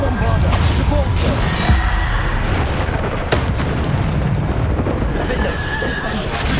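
Bombarda spell explosions go off repeatedly in Hogwarts Legacy, with loud booms and bursts over a constant roaring din while a voice calls out spell names.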